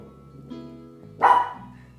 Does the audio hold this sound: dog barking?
yes